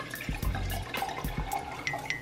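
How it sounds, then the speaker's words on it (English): Red wine poured into a pot roast, a close, splashy liquid pour with a few low gurgling bursts early on and lighter drips and trickles afterward. "you pour the wine now."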